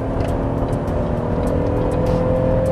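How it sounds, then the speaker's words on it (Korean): A Chevrolet Traverse SUV with a 3.6 L gasoline engine of about 300 horsepower accelerates, giving a loud, steady engine drone blended with road and wind noise throughout, with no talking. "가속력도 아주 준수한 편입니다."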